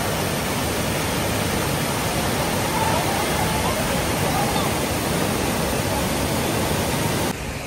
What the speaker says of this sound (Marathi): धूतपापेश्वर मंदिराच्या शेजारीच आहे ना असा सुंदर असा हा पाण्याचा झरा वाहतो, धबधबा किती सुंदर आहे बघा